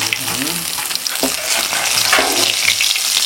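Fish frying in hot oil, a loud continuous sizzle and crackle close by, with occasional stirring scrapes in the pan and no voices.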